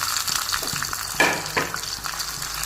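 Onion frying in hot oil in a wok gives off a close, bright sizzle with a sharper crackling burst when the pieces hit the oil, settling into a steady hiss.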